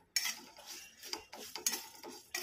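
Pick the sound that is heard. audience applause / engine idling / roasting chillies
roasting chillies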